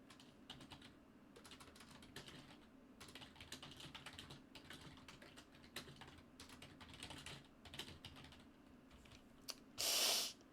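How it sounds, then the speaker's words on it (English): Computer keyboard typing during a game livestream, a steady run of light, irregular key clicks close to the microphone, with a brief louder burst of noise near the end. "Keyboard noises, I'm sorry."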